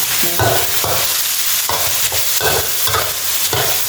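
Vegetables and herbs being stir-fried, with a utensil scraping and tossing the pan in a steady rhythm of several strokes over a continuous loud sizzle, close up and with no talking.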